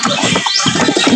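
Pigeons kept in a home loft coo in the morning, producing a close, loud run of soft throaty coos over about a second with no voices.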